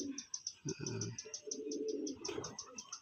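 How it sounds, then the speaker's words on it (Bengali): A three-year-old male pigeon kept as a hobby bird coos and calls close by in a repeating low rhythm, while a high steady insect-like chirping runs throughout and people talk nearby. "এই হচ্ছে নর পায়রা"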